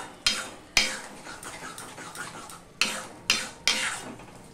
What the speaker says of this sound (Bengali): এবার সমানে আমি নাড়তে থাকবো